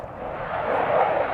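A propeller airplane flies over a training airfield, its engine a loud steady drone that swells slightly as it passes, heard outdoors without talk.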